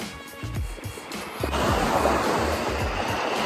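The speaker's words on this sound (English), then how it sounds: "As you can see, it's quite wavy." Surf rolling onto a cold beach, a steady broadband wash that swells and thickens midway through, with wind-like rumble and no voices.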